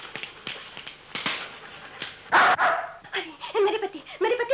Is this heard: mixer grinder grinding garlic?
no